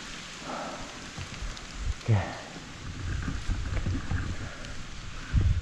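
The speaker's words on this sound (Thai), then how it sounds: "ฝนตก" Rain falls outdoors as a continuous hiss, with occasional heavier thumps and low rumbles mixed in, at a moderate, steady level throughout.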